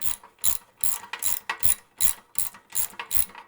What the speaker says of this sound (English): I like to use an Allen key ratchet and then just a regular Allen key, and we can go ahead and tighten this up